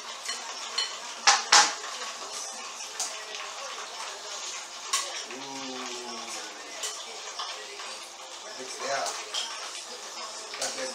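Chicken wings are tossed with oil and seasoning for lemon pepper wings, making light clattering and sliding in a bowl under a talking voice.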